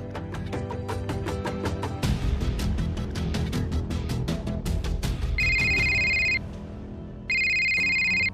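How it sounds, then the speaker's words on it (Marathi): Telephone ringing unanswered indoors, repeated electronic ring bursts sounding twice in clear pulses over a busy ringtone-like melody, loud and close with no one picking up. "पांड्या फोन का उचलत नाही?"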